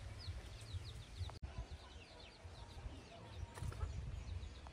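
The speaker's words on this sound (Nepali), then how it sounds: "बस्तीको कुखुराको चल्ला हेर्नुहोस् है" Local village chicken chicks cheeping in a rural yard, a quick series of faint high peeps over low background rumble and muffled handling noise.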